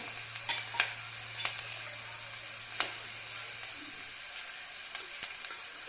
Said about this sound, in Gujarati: આદુ લસણની કટકી નાખીશું. સાથે સૂકા 2 મરચાં